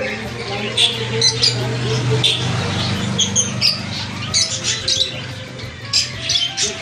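Caged diamond doves and cockatiels kept for sale chatter in a steady mix of bright chirps and squawks, with overlapping calls from several birds close by and a faint murmur of people underneath.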